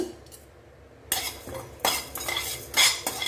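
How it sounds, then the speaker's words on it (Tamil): Spices are dry-roasted over low heat in a pan, with a spatula scraping and clinking against the metal in several short bursts between quieter stretches. "எல்லாத்தையும் ஒன்றாவே சேர்த்து வறுத்துருங்க"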